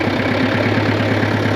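A tractor engine in second gear gives a steady, close, loud diesel throb with a rapid regular pulse. The pitch holds even throughout, with no audible voices.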